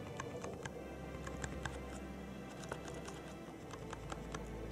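Quiet, rapid key presses on a Trust GXT 280 gaming keyboard, a soft scattered patter of light clicks over a steady low background hum, with no talking.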